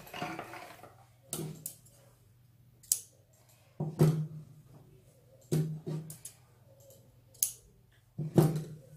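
Scissors make small snipping cuts in petticoat fabric. The crisp, close blade closes come singly at irregular intervals, about six or seven over a few seconds.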